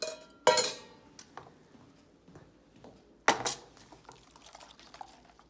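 Goat milking equipment is washed in water, with two sharp splashy bursts of sloshing water separated by quieter clinks, drips and handling noises.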